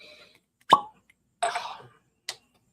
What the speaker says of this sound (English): Nice cork pop there.